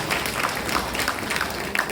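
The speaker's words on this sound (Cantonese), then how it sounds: "我哋再次以熱烈嘅掌聲鼓勵一下各位小綿羊嘅隊員啦" An audience at a school closing ceremony and Boys' Brigade enrolment event claps in a steady, moderately loud patter of many hands, sustained without pause.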